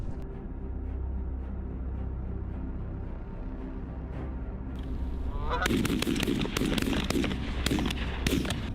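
Wild geese honk in a burst of repeated sharp calls near the end, preceded by a low steady rumble of background noise.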